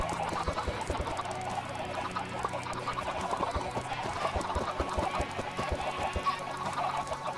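A dense crowd of many chickens in Minecraft, continuous overlapping clucks and squawks at close range, steady and busy throughout with no voices.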